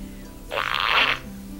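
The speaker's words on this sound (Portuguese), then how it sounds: "Não há criança que não adore essa minha maquininha de soltar pum." A toy fart machine lets out one long buzzing raspberry-like fart tone, close and loud, lasting about half a second against a quiet room.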